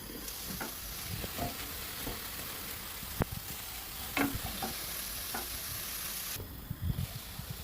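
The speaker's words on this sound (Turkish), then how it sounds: "Suyunu salana kadar ara ara karıştırıp pişiriyoruz." Chicken sizzles and crackles steadily in a hot pot while a utensil scrapes and stirs now and then, close and moderately loud, with no talking.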